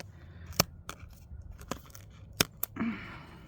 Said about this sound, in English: Having a hard time cutting them with my scissors.